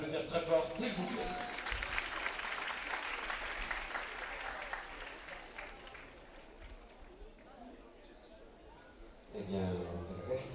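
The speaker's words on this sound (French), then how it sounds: "On peut l'applaudir très fort, s'il vous plaît." Audience applause after rider Jeanne Sadran's clear round on Rominet de Bruz at an elite show-jumping final, a broad sustained clapping from a crowd that slowly fades, with a brief louder burst near the end.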